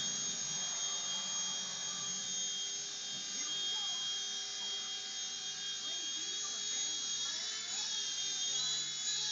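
A Blade mSR radio-controlled helicopter fitted with an mCX2 canopy and lights hovers close by, its small motor and rotor giving a steady high-pitched whine that holds level throughout, with faint voices underneath.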